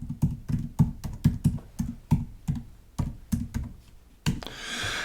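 Rapid, uneven keystrokes clatter on a computer keyboard as a domain name is typed, a dozen or so close, crisp clicks with brief pauses, then a soft rustle at the end.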